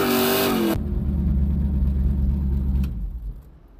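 A car revs hard during a burnout, a loud roaring engine note climbing and then dropping into a rough rumbling idle, close by and without talk.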